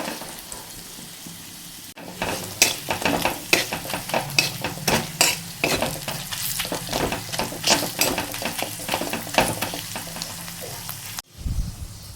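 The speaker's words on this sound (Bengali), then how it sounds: "এখন একটু আমি ভেজে নিচ্ছি মশলাগুলো" Spices frying in a pan with ginger paste and green chilli for a jackfruit and potato dish, a hot crackling sizzle with repeated scraping stirs, close and busy, starting after a quiet opening and cutting off near the end.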